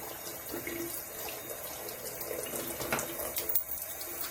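Makeup brushes are rinsed under a running tap, a steady close stream of water with small splashes and shifts as the brush moves through it, and a brief voice over it.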